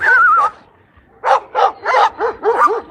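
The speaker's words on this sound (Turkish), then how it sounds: "Hey 5-6 köpek birleşti." Five or six dogs bark loudly and close, a whining howl followed by a rapid string of overlapping yaps and barks.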